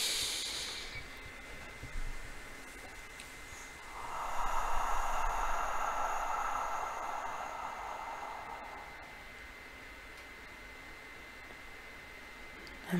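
A slow, deep breath drawn in during a calm counseling meditation, a soft airy hiss swelling for several seconds and then fading, alone over faint background noise.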